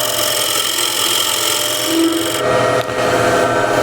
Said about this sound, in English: I want to cut that rabbet. I'm using a square and scraper for this.